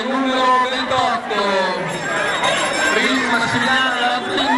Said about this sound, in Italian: sarà sul prossimo giro che sentiremo squillare alla campana per annunciare la organizzazione